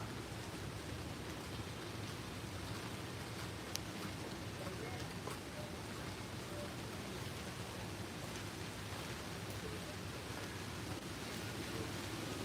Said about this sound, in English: rain start to pouring down again